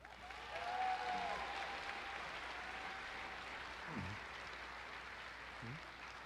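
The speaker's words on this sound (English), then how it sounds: "Please give a round of applause for Ami Gabriel" Steady applause from a large graduation ceremony audience at OCA in 2021, a dense, even wash of clapping that holds for about six seconds with a faint tone running through the first half.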